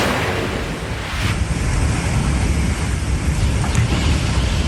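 Strong wind from Typhoon Julian in Batanes under Tropical Cyclone Wind Signal No. 4 roars loudly and without pause, a thick, buffeting rush that swells slightly after the first second, with no speech.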